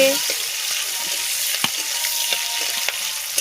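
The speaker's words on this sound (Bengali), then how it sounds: "এবার আমরা ফুলকপি ভেজে নিচ্ছি ভালো করে," Cauliflower pieces fry in a pan with a close, steady sizzle, broken by occasional light clicks of stirring.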